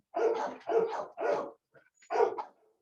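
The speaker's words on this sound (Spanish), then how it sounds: "el momento que ladran todos los perros" Several dogs bark in four loud, close bursts with a brief pause before the last, no talking over them.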